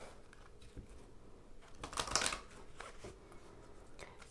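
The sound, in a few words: shuffling tarot cards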